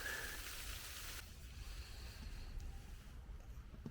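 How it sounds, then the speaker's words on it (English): During a snow storm, precipitation patters on the roof of a hot tent, heard from inside as a steady, dense hiss, louder for the first second, then settling into an even wash with no voices. "It's hard to tell when you're inside here whether it's rain, snow, or freezing rain that you're hearing hit the top of the tent."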